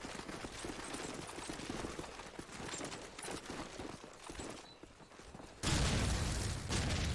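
Rapid bursts of gunfire in a competitive first-person shooter match on the Backlot map, a fairly steady run of shots with a louder, denser stretch near the end.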